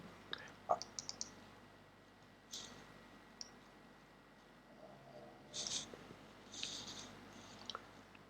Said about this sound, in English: I double click on the blue